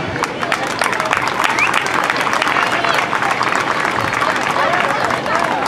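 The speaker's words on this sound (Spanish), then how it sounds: "agradecerles y brindarles un aplauso por, por este trabajo que vienen haciendo." A crowd applauding steadily at the opening of a song festival in Capilla de Sitón, dense clapping that holds at a loud level from start to finish, with a faint murmur of voices underneath.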